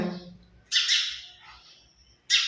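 House sparrows nesting inside a home give loud, close chirps and squawks in two sharp bursts separated by a brief quieter stretch.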